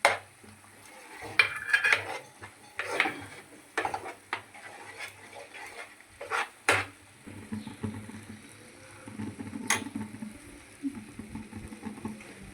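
A spoon stirs dondakaya (ivy gourd) masala with salt and chilli powder in a pan, making irregular metallic scrapes and knocks over a faint background sizzle.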